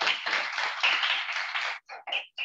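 Audience in a hall clapping after a request for loud applause at the Jazbaa 2021 and Kaka Hathrasi Shiksha Puraskar awards event, a dense steady burst that breaks into a few short, thinning patters at the end.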